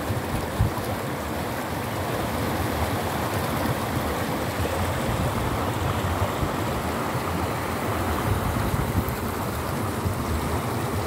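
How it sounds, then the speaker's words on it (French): A river flows in a continuous, full-bodied rush of water, steady and close throughout with no other sounds on top. "je vous mets le son et l'image de la rivière"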